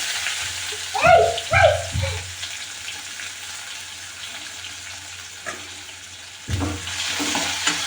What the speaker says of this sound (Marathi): जिरे टाकलेत, त्याला छान तडकू द्यायचं